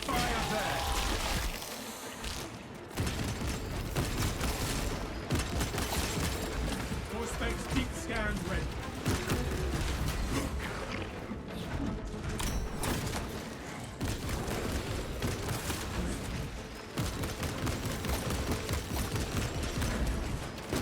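Dense, rapid gunfire crackles and booms in the Space Marine 2 video game, sustained bursts with metallic mechanical clatter and rumbling impacts, loud and continuous with brief lulls, under occasional voices.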